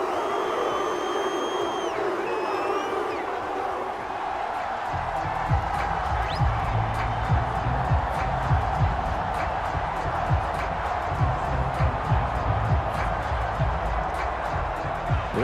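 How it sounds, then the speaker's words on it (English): Loud NFL stadium crowd at a Cleveland Browns versus Tennessee Titans game, a dense sustained roar of cheering that swells after a big defensive play, with a commentator talking over it throughout. "This crowd turning up the decibel level."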